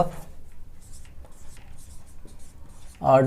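Chalk or marker scratches across a board in short, faint strokes during an organic chemistry lecture, with quiet gaps between them and a voice breaking in briefly at the start and again at the end.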